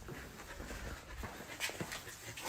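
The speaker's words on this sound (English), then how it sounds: "Golden Retriever is literally clogging the doggy door." Golden Retriever panting close by, steady rapid breaths in a continuous rhythm with a few sharper huffs, heard alone with no talking.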